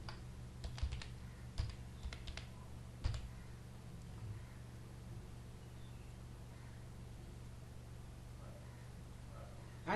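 Faint clicks of a computer keyboard as a command is typed on a server, a short cluster of quiet keystrokes early on, then near silence with low background hum.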